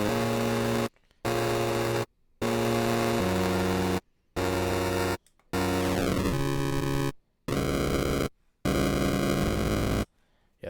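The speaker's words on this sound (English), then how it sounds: "bit crusher, which reduces the bit quality of your audio and makes video gamey sounds" Heavily bit-crushed audio with lowered sample rate, reduced bit depth and added jitter, giving a harsh, buzzy, video-game-like tone broken into choppy bursts with abrupt silent gaps and one pitch sweep, loud and with no talking.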